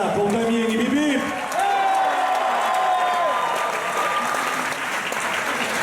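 Audience applause for a singing contestant at a radio crochet amateur singing contest, loud and sustained with crowd noise, while a voice speaks over it.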